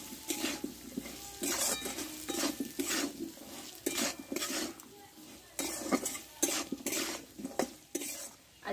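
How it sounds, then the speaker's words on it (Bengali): Salt, turmeric and coriander powder for a pumpkin curry sautéed in a pan, a spoon scraping and stirring in repeated bursts over a low sizzle, with occasional clinks of metal on metal, close and moderately loud. "এই মশলাটা ভালোভাবে কষে নেব"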